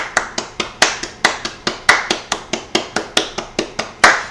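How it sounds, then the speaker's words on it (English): One person clapping hands in a sharp, loud, steady rhythm, about four claps a second, close to the microphone with no talk over it. "Let's give a round of applause for Antonio Cesaro, aka Claudio Castigliano."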